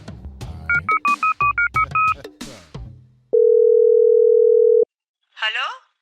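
A phone call being dialed: a quick series of keypad tones, then a long steady ringing tone, with a voice before and after.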